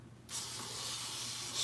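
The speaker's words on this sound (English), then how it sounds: "spray it with water, and put it on one side of the tub" A spray bottle mists water onto a folded paper towel in a plastic tub, a single close, steady hiss that starts abruptly and lasts more than a second.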